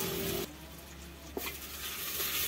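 Cumin seeds and whole dried red chillies sizzle and crackle in hot oil in a pot while cooking sheep meat shurba, a steady close frying hiss with one sharp pop partway through.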